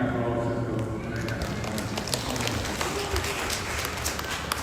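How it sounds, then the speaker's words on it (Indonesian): Guests at a wedding reception applaud the protocol staff, a steady patter of many hands clapping in a large room, continuous and moderately loud, with a voice talking faintly underneath. "kita berikan aplaus untuk mereka"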